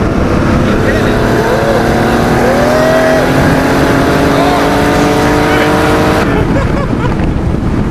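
A modified Porsche 930 Turbo accelerates hard, its loud engine note climbing steadily through the revs with rising harmonic whine, cutting off abruptly near the end.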